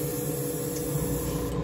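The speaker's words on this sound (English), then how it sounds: "So I'll just spray out the leftover paint." An airbrush spraying out leftover paint, a steady close hiss that stays even throughout over a faint low hum, with no voices.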